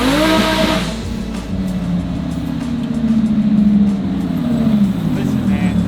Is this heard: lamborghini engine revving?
yes